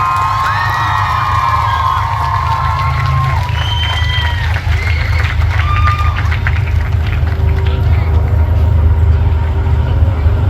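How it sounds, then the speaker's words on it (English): A crowd at the Oshkosh Hmong Labor Day celebration applauds dance teams, with sustained clapping, cheers and sharp whistles rising over a constant low hum while voices chatter throughout. "Give them a warm round of applause"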